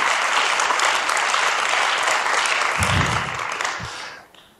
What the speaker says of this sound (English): And a big applause for her.